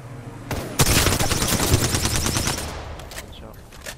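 Rapid bursts of automatic gunfire from a battle royale video game firefight, loud and sustained for about two seconds after a sharp opening shot, then tapering into quieter scattered shots.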